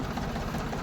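A tractor engine runs steadily up close, a continuous low rumbling drone with even vibration and no pauses, with no talk over it.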